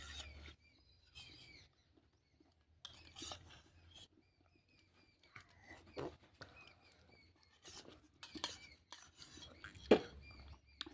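A spoon clinks and scrapes against a dish in scattered, faint taps and clatters during a meal of mango mixed with milk, heard close in a quiet indoor setting with brief pauses between strokes.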